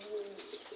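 A stray blue-bar pigeon wearing a leg sticker coos softly, a short close call with a couple of soft pulses.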